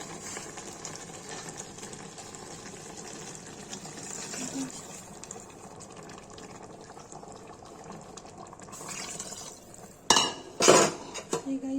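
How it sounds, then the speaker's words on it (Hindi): Water is poured into a pan of potato and parwal curry, then metal utensils clatter and scrape loudly against the pan in short bursts, over a steady kitchen background hum. "इसमें पानी डाल देंगे।"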